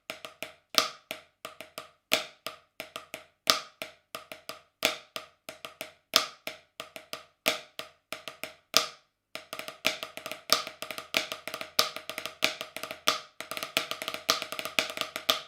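Drum rudiment permutation played on a practice surface: crisp, evenly spaced single strokes in a steady pattern, then a denser run of quicker, busier hits, close and fairly loud with no talking.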